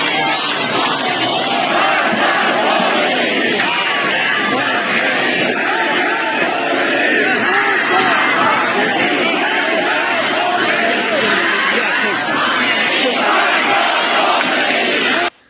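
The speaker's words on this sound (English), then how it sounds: "footage coming out of Iran showing all the protesters shouting death to Khamenei" Large crowd of protesters in Iran chanting in unison, a dense, loud, continuous roar of many voices shouting slogans throughout, with no single speaker standing out.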